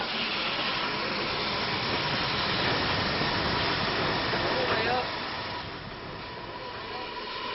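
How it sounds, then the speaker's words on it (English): Visiting Standard Class 4 steam locomotive running on the Great Central Railway, a continuous rumbling rush of wheels and carriages close by, later easing off, with someone narrating over it. "The use of visiting locos, like this standard Class 4 from the East Somerset Railway, which is on extended loan"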